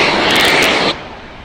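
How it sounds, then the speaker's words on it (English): SpaceX Starship Ship 28 vents loudly ahead of a static fire, a broad close roaring hiss that holds steady for about a second, then drops sharply to a quieter rushing tail. "if you can hear me over the loud venting, like I said, it never gets old to hear that venting"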